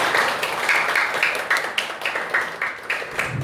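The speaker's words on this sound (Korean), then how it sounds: "큰 박수 부탁드립니다." Audience at a church debate event claps to welcome a panelist being introduced, a moderate burst of applause with distinct rhythmic hand claps close by.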